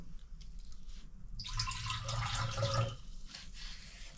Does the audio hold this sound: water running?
yes